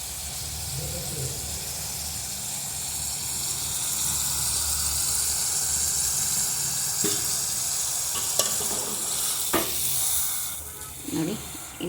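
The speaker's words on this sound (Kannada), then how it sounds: "ಈ ರೀತಿ ಕರಗ್ತಾ ಇದೆ ನೋಡಿ ಬೆಣ್ಣೆ." Butter melts and froths in a pan as ghee is made, giving a steady close sizzle and hiss throughout, broken by a few clicks and stirring knocks.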